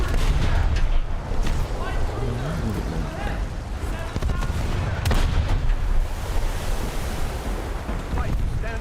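Warship guns fire in the naval battles of War Thunder, with repeated booming shots heard over constant ocean wash and engine rumble, while a player talks through it.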